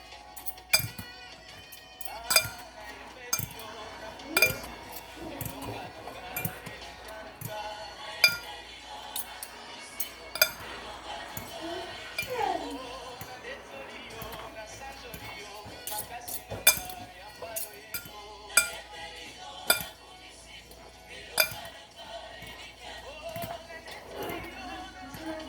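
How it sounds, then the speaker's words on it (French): Spaghetti tossed with egg in a dish for a homemade spaghetti omelette, utensils clinking against the dish in scattered sharp taps over a steady background, with a person talking in French throughout. "On va mélanger le spaghetti avec le œuf."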